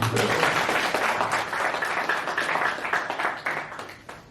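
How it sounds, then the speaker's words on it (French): Audience at a wedding ceremony breaking into sustained, dense applause, many hands clapping together loudly and evenly before tapering off slightly at the end. "Donc on va applaudir pour lui."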